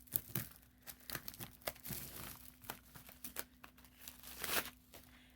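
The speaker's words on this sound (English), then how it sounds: "the first thing out of the box is in bubble wrap, so I'll grab my scissors again" Bubble wrap being pulled off and cut open around an item from a FabFitFun mystery bundle box, giving a steady run of close crinkling, tearing and scissor snips with no talking.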